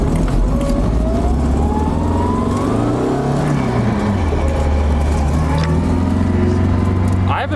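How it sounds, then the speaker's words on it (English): A Nissan 240SX being driven, its loose exhaust rattling against something underneath, heard as a steady engine drone with a busy rattle mixed in, while a person talks over it throughout. "that rattling you're hearing in the back, that's my exhaust hitting something"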